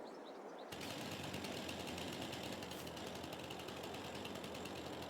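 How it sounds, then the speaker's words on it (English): A chainsaw in the farming game Farming Simulator 22 starts up after a brief quiet moment and runs loud and steady with a rough, buzzing mechanical drone, no talking over it. "Get the chainsaw out."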